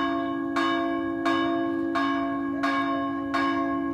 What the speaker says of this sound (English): you can hear the bell of the church ringing. This is Angelus.